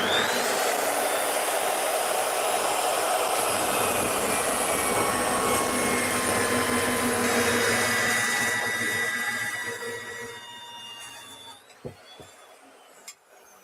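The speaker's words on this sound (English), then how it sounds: "Half-inch material, no problem for the FEIN 14-inch slugger." A FEIN 14-inch slugger saw cuts through half-inch metal held in a vise, a loud continuous high-pitched whine and grinding roar that holds steady for about ten seconds, then winds down with a few clanks.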